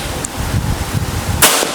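A Bocap PCP air rifle charged to about 2500 PSI fires a single sharp, close shot near the end, preceded by low handling rustle and background noise.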